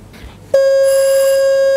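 A quiz contest answer bell at a school quiz final rings once, a sudden loud sustained electronic tone that holds steadily after a faint murmur, with no talk over it.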